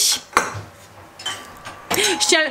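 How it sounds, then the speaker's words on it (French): Dishes and cutlery clink and clatter in bursts as a home dishwasher is unloaded in a kitchen, with brief gaps between the knocks of plates and silverware. "est en train de vider le lave-vaisselle"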